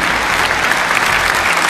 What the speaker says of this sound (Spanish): Denle un aplauso al Señor del Señor